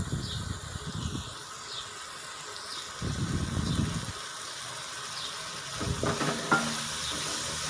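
Spice masala sizzles in oil in a pan for bhindi and chana dal, a soft, steady frying hiss broken by scraping stirs and a few clinks of a spoon against the pan.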